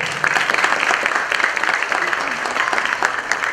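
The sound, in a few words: audience applause for the film Chirner 1930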